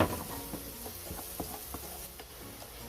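White onions and garlic sautéing in a pan, giving a faint, low sizzle dotted with soft clicks and scrapes as the pan is stirred, close by with no talking.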